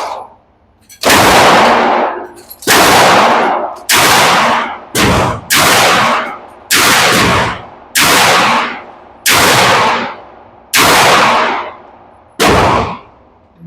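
Nine loud, close gunshots from an AR9 rifle at an outdoor range, evenly spaced about a second and a half apart, each with a sharp crack and a decaying echo.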